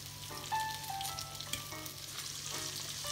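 Shrimps frying with chorizo in a hot pan give a close, bright sizzle and crackle, with a few sharper spits and brief stirring scrapes over the steady hiss, and no talking.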